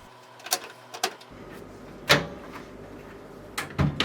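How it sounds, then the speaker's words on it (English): Plastic casing of a Hotpoint washing machine slid down and clipped into place, heard as a few separate close knocks and snaps with quiet gaps between them. "Slide the casing down to clip everything in place."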